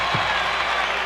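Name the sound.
basketball arena crowd cheering a changed call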